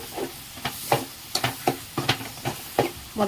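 Potato and drumstick pieces dropped into a hot frying pan of prawn curry masala, with a string of sharp, close clatters and sizzling bursts in an uneven rhythm.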